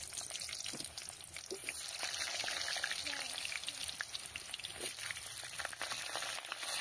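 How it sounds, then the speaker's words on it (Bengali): Potatoes frying in mustard oil in a wok on a rooftop, giving a steady, dense crackle and hiss that runs throughout at moderate loudness with no speech over it. "প্রথমে আমি আলুটাকে ভেজে নেব।"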